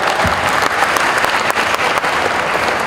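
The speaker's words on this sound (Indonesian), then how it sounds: "Boleh tepuk tangan." A school audience gives loud, sustained applause at a ministerial talk, dense clapping from many hands close by, steady throughout with no voices over it.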